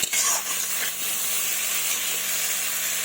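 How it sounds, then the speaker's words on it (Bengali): Masala and papaya being stirred and fried together in a pan for a fish curry: a steady, close sizzle and hiss that runs unbroken, with faint scraping of stirring and no talking. "মশলাটাকে ভালোভাবে নাড়াচাড়া করে কষিয়ে নেব পেঁপেগুলোর সাথে"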